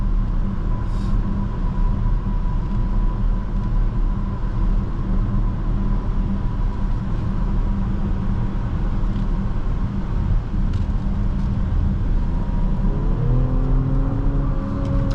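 A 2024 BMW X5 xDrive40i under way, its ZF 8-speed automatic shifting quickly, gives a steady loud engine and road drone with wind noise throughout and a rising engine note near the end.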